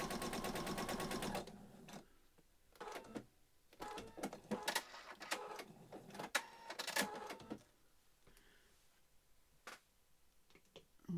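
A home sewing machine stitches along a fabric edge in a beginner's project, starting with a steady run, then breaking into short bursts and clicks before going quiet, close and fairly faint, with no voices.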